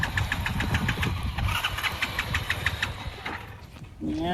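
Motorbike engine starting and running, a close, rough, rapidly pulsing mid-range rumble that holds steady before dropping off near the end.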